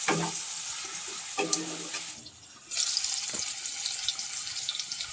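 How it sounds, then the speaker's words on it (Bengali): Chopped tomato and onion fry and sizzle in a pan with a pinch of salt, a steady broadband hiss with a brief dip in the middle and a few light stirring knocks, no talking. "টমেটো আর পেঁয়াজটা সুন্দরভাবে ভেজে নেব"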